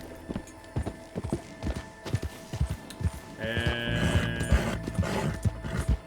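Steady clip-clop of horse hooves on a road in the video game Red Dead Redemption 2, with a regular walking rhythm, close and clear, under in-game ambience and a brief spoken word.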